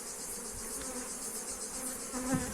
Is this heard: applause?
no